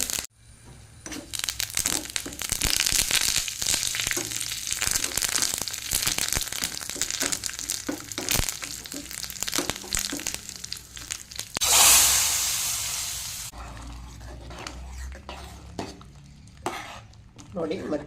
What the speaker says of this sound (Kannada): ಸ್ವಲ್ಪ ಕರಿಬೇವನ್ನು ಹಾಕ್ತೇನೆ